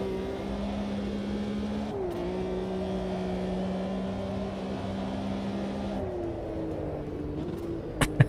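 A Porsche race car engine in Automobilista 2 holds a steady, loud drone, with pitch shifts around gear changes at two and six seconds and a couple of sharp clicks at the end.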